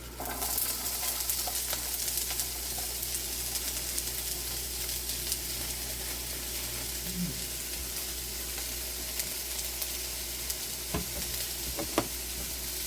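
Onions sizzle and hiss steadily in a hot wok for fried rice, a dense, even frying noise that runs throughout, with a few faint clicks as they are stirred.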